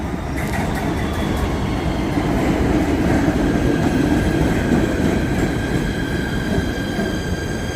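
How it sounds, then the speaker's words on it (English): A PATH train bound for World Trade Center arrives at Harrison station, a loud close rumble of wheels on rail with squealing and a rhythmic clatter throughout. "here's a train bound for WTC"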